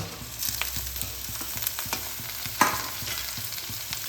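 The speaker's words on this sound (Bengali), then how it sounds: "এটা এর মধ্যে দিয়ে একটু ফ্রাই করে নেব" Thinly sliced potatoes sizzle with onion in a pan while a spatula stirs and scrapes repeatedly, close and fairly quiet.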